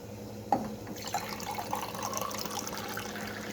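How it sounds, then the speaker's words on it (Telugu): Water poured from a glass into jowar (sorghum) idli batter, a soft steady trickle and splash after a brief clink, continuing for a few seconds with no talking. "ఇక గ్లాస్ నీళ్ళు పోస్తున్నాను"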